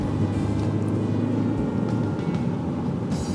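A 2020 Toyota Majesty 2.8 Grande van with upgraded air suspension accelerates to overtake, its engine and road noise making a loud, steady rumble heard from inside the cabin.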